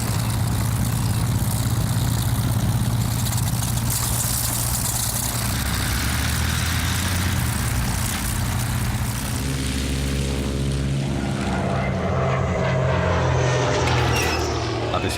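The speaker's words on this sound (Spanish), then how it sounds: "los grandes bimotores alemanes Gotha. Son los primeros superbombarderos" Loud, steady droning of German Gotha twin-engine First World War bombers, with a continuous propeller hum and layered engine tones that shift toward the end. A narrator's voice may run underneath.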